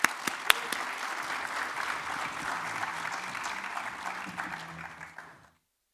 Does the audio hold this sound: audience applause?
yes